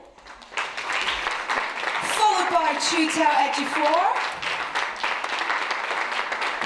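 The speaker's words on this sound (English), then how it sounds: "Please give them a round of applause." Audience applause for cast members being welcomed onstage at a Maleficent: Mistress of Evil press conference, a steady wash of clapping running under an announcer's voice that keeps talking throughout.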